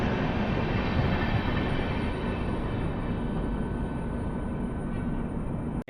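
Train pulling away from a station on the Kacheguda–Murudeshwar route after getting the signal, a steady broadband rumble and roar that stays loud and even throughout.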